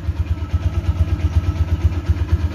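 A 2010 Yamaha MP Primus motorcycle idles at low speed close by, its engine giving a steady, even pulsing thump with no talking.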